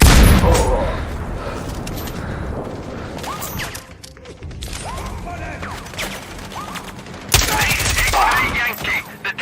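Gunfire in the shooter Sniper Ghost Warrior Contracts 2, a dense noisy battle mix of shots, mechanical clatter and booms, loud throughout with a brief lull midway and a sharp burst near the end, with voices mixed in.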